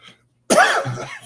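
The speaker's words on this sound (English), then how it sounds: "Sorry, I tried not to cough here." During a presentation at a GDG Kansas City developer meetup, a presenter gives a single loud, close, harsh cough into the microphone after a brief silence, ending in a rough throaty rasp.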